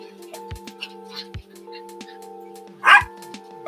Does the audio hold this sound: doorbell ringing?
no